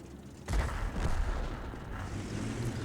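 Tank cannon fire in World of Tanks erupts as a sudden loud boom about half a second in, followed by a sustained rumbling roar of battle noise.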